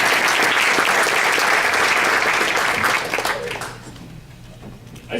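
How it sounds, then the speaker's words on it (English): An audience applauds the staff at a Somerville Elks event, a loud dense burst of clapping that holds for about three seconds, then thins into scattered claps and murmur before fading. "The whole staff, everybody, you can applause."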